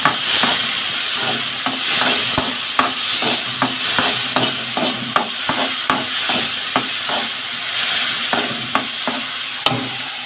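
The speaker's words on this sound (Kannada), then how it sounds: "ಈಗ ಕಟ್ ಮಾಡ್ಕೊಂಡಿದ್ದ ಟೊಮೆಟೊನ ಹಾಕ್ಕೊಳ್ತೇನೆ" Chopped tomatoes and green chili frying in a pan, with a loud, steady sizzle close by and a rapid series of sharp scraping stirs and taps running through it, no talk.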